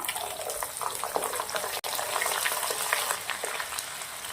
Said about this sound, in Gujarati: લસણને સરસ લાલ થાય ત્યાં સુધી તેલના અંદર સાંતળી લેવાનું છે